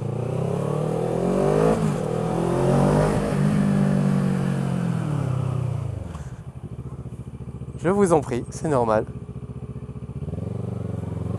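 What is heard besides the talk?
motorcycle engine revving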